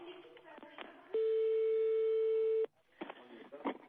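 A steady electronic telephone tone holds for about a second and a half, loud and unbroken, between stretches of someone talking in French on the line.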